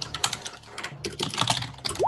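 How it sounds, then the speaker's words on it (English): Rapid, overlapping clatter of keys from several computer keyboards typed fast at once, busy and close, with a short rising electronic blip at the end. "Furious typing everywhere."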